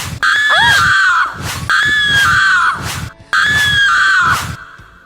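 A cartoon man screams loudly while being beaten with sticks as he hangs upside down from a tree, three long wavering cries in a row with short gaps between them.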